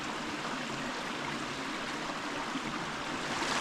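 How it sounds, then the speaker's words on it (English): Small, clear mountain stream in the Lake District fells above Grasmere, flowing as a steady, close rushing wash of water with no breaks, heard alone without voices. "Look at this, what a great little stream you've got here."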